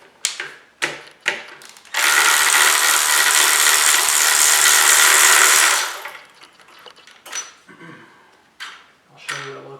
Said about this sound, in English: Now we're going to do the 10mm bolts that have the intake manifold on.